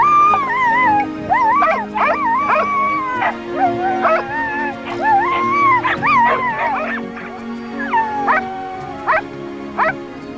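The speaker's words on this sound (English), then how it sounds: "we see several finds where the dog always barks to indicate to the handler that the target has been found" A search and rescue dog barks repeatedly in short bursts with whines and yips between, close and loud, signalling a find to its handler; no talk over it.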